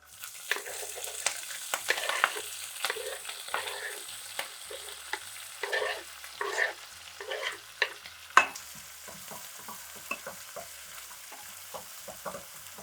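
Green chilies and onion fry in a pan with cumin and curry leaves, a steady sizzle broken by repeated sharp clicks and scrapes of a stirring utensil.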